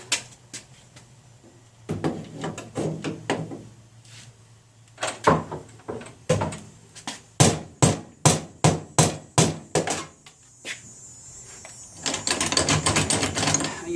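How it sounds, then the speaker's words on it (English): A hammer bangs on a part inside a Street Fighter 3: Third Strike arcade cabinet, landing in irregular clusters of sharp, close metallic knocks, then a quick rattling burst of rapid strikes at the end. "use the hammer and poke it out"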